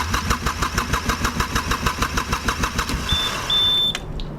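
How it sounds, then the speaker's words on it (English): A marine diesel engine cranks steadily without firing, a rhythmic even chug of about a dozen turns from the starter, close and loud, ending with a brief high whine and a click as cranking stops. "Another problem you can come across is that the engine turns but doesn't fire."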